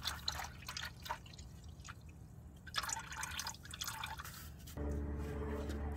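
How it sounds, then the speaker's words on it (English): Leftover coolant dripping from the lower radiator hose of a 2008-2010 Nissan Murano, faint irregular drips and trickles over a low background hum, fairly quiet throughout, with no one speaking. "Make sure you have something for the excess coolant to drain into, because there may be leftover coolant in the lower radiator hose."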